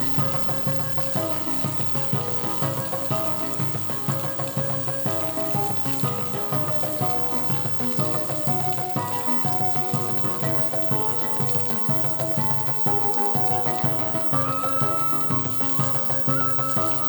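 Bone-in street meat searing in a hot pan on an induction burner, a dense continuous sizzle and crackle that stays loud and even throughout, with no voices over it.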